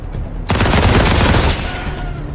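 A burst of gunfire from a character in the video game Wasteland 3 erupts after a short lull, a loud dense rattle of rapid shots lasting about a second before fading into a lingering tail.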